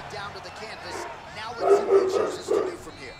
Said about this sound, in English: Every time I get taken down, my dog's barking.